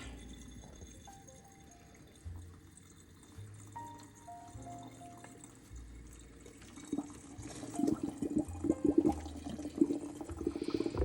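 Soft tones hum quietly before water begins pouring and splashing through a rusty kettle, growing louder and gurgling toward the end.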